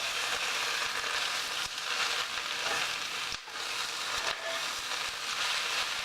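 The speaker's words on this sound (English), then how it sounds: "Sauteed my greens around." Greens sauté in a pan, giving a loud, continuous hissing sizzle with brief stirring scrapes, heard close up without any talking.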